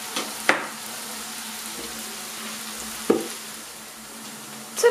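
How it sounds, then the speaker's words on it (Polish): Onion frying in a pan, a soft steady sizzle broken by a few sharp stirring clacks and scrapes, with no talking. "Cebulka będzie nam się podsmażać"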